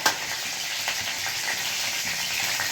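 Cumin seeds frying in hot oil for aloo pakoda, a steady close crackling sizzle with small pops throughout, no voices.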